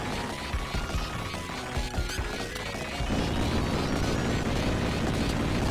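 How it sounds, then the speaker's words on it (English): A boss's shell bursts apart in the Genesis shooter Sagaia: scattered clattering hits give way to a loud, sustained roaring blast of noise. "the faster he becomes until eventually his shell pops off, or I should say explode"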